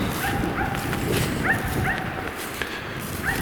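A hunting dog barks in the forest during hunting season, its distant yips and barks coming in short, irregular bursts over steady outdoor background noise.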